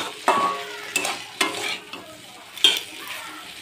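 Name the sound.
spice paste being fried and stirred in a pan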